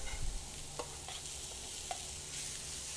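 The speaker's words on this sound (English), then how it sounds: "Just stir them through lightly, just to get the heat through them." Cooked ingredients are stirred gently through a hot pan for a duck confit dish, giving a quiet, steady sizzle with a few soft utensil scrapes and taps.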